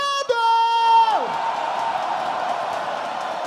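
A Portuguese-language rap battle crowd roars and cheers in a sustained wash of noise, following a brief descending horn-like tone at the start.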